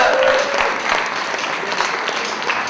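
Audience at a slam poetry competition applauds a poet after the scores are read, a continuous thick patter of clapping throughout, with a brief voice or tone at the start.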